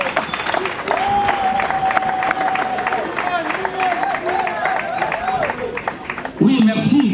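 A church congregation cheering and clapping in acclaim of Jesus Christ, a sustained crowd roar with a voice rising over it, louder near the end.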